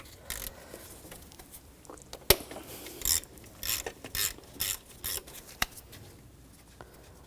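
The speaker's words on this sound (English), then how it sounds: "Using a 12mm socket," A 12mm socket and ratchet loosening a nut on the alternator of a 2004-2009 Audi A4 Quattro 2.0L, heard as a series of close, quick metallic clicks in short bursts with a few sharper knocks.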